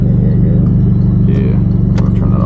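A loud, close engine idles with a steady low pulsing rumble while a person talks over it briefly.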